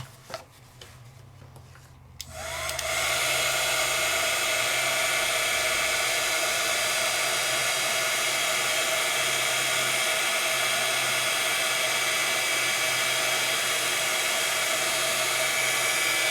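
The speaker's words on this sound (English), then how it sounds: "Heat emboss." A heat gun blows hot air to melt gold embossing powder on 80-pound paper, kicking in after two quiet seconds as a loud, steady whirring hiss that holds without a break.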